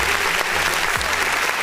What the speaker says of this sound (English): I don't like clapping for myself